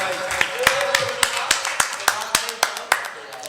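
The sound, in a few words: applause for Shamshad Hussain Saraei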